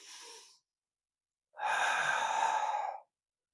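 Close, audible breaths during a Pilates exercise: a short exhale fades out, then after a pause comes a long, steady airy breath lasting about a second and a half, with no voices.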